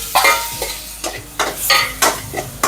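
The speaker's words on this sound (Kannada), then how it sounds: "ಸಣ್ಣಾಗಿ ಹಚ್ಕೊಂಡು ಟೊಮೆಟೊನು ಫ್ರೈ ಮಾಡ್ಕೊಳ್ಬೇಕು" Chopped tomato fries in a pan with onion for a paneer gravy, a bright steady sizzle broken by several quick scraping stirs of a spoon against the metal, close and clear with no talking.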